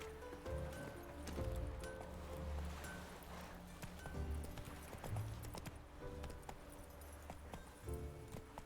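Horse hooves galloping in The Witcher 3, a steady rhythmic clip-clop of hooves on ground held through the whole stretch at moderate loudness, with rustling and faint background game sounds mixed in.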